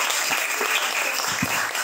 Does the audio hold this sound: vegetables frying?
no